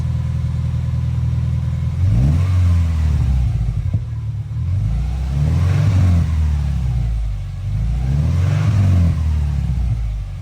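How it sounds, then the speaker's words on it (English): A 2000 Subaru Impreza 2.5RS engine on equal length factory headers revs up three times, each blip climbing sharply then settling back to a steady idle rumble, loud and close with no talking. "here's what it sounded like before with the equal length factory headers"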